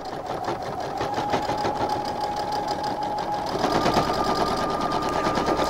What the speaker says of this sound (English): And I'm gonna now come in on that same top stitching and I'm back stitching again and back stitching again for the same reasons